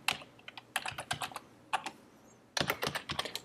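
Typing on a computer keyboard, quick close clusters of key clacks in short bursts with brief pauses between them, no voices.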